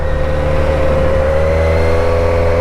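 Kawasaki Z900 motorcycle engine revving loud and close, a continuous steady engine roar with strong low harmonics throughout the short stretch.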